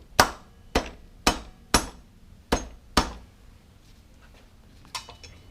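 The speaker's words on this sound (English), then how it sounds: "I'm just going to bump this axle all the way through." A hammer bumps the front wheel axle of a Honda Goldwing through its hub with six sharp metallic strikes at an even pace, then two lighter taps after a short pause, close and clear with no talking.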